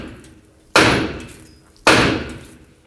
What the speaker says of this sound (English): Take a hammer and just hit the knuckle right here.